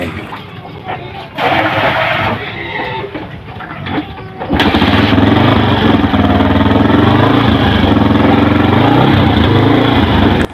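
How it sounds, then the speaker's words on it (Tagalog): A Yamaha Sniper motorcycle fresh from a top overhaul with a new valve fires up and settles into a loud, steady running engine note, with rougher mechanical noise beforehand. "umandar na itong ginagawa nating sniper"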